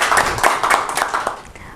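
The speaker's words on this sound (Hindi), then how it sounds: "एक बार जोरदार ताली हो जाएगी।" Brief burst of audience clapping for an honored guest at a cultural association's interview event, close and lively, fading slightly toward the end.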